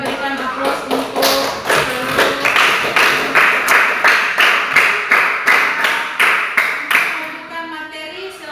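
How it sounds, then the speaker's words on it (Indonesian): A classroom of students applauds in a steady run of sharp, rhythmic claps that swell and hold for several seconds before thinning out, close and loud with no talking over it. "Jadi kita berikan aplaus untuk"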